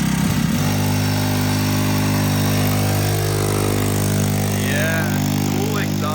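A mini motorcycle engine idles steadily with a throaty exhaust drone throughout, running near and loud while people talk over it.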